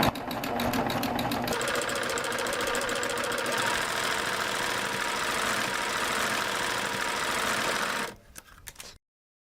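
A serger stitches elastic onto the edge of a diaper cover with a fast, steady mechanical whir that holds for about eight seconds, then stops with a few faint clicks.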